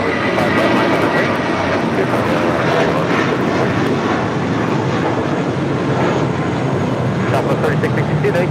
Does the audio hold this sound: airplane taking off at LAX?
yes